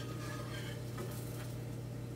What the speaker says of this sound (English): Here it's frying.